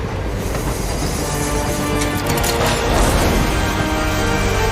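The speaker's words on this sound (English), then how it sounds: "So there we break apart the rest of the train" Train cars uncouple and roll on in a Hitman level set in the Carpathian Mountains: a continuous heavy rumble of rail wagons with wheel squeal and rhythmic clatter, loud and without talk.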